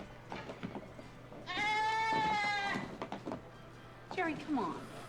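Goat bleating in a restaurant setting, a loud sustained wavering bleat in the middle, with shorter bleats near the end and people talking around it.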